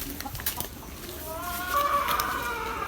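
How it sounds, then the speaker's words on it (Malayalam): Domestic chickens cluck at feeding time in a home yard, close by, with scattered clucks that grow busier and louder toward the end. "അതുപോലെ തന്നെ കോഴി ഇവിടെ എത്തിയിട്ടുണ്ട്."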